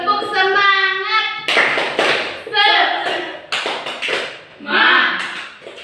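A class of children does the rhythmic 'tepuk semangat' clap, a teacher's voice leading with patterned bursts of clapping and chanted voices in a classroom.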